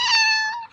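A single high-pitched domestic cat meow, clear and close, a sustained tonal call that fades out at the end.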